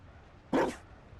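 A single short dog bark rings out in Dragon Age: Inquisition, one sharp clear yelp standing alone against a quiet background.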